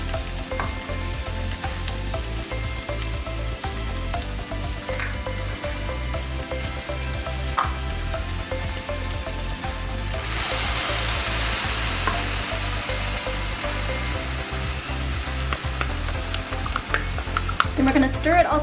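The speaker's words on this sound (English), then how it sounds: "gonna stir it all together and let it cook until it's heated through, or until the tortilla chips have softened" Migas ingredients and tortilla chips sizzling steadily in a skillet while being stirred, a continuous close frying hiss with scraping stirs throughout and no talk.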